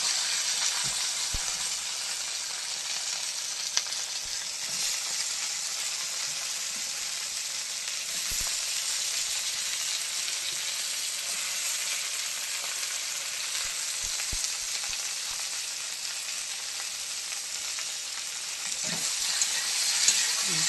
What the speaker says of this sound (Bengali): ভেন্ডি দিয়ে দিচ্ছি আমি তেলের মধ্যে, ভাজা ভাজা করে নেবো